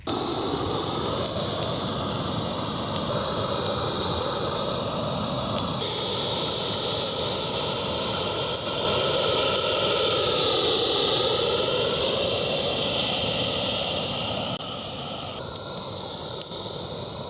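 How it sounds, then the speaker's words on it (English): A propane weed torch burns weeds outdoors with a constant loud roaring hiss that carries on without a break, faint shifts in tone but no talking. "I think I'm going to take the torch off the four-wheeler for this little part, just because there's quite a bit more weeds and stuff"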